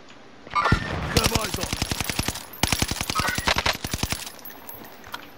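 Rapid automatic gunfire in a Call of Duty: Modern Warfare match, two long bursts of sharp, evenly spaced shots close and loud, separated by a brief pause, with a voice speaking faintly underneath.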